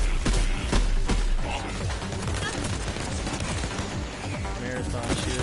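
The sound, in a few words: gunfire from the video game Borderlands 3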